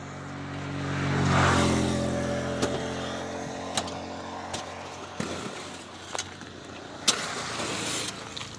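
A tractor engine rumbles steadily, revving up early then idling, with several sharp knocks and clanks scattered throughout.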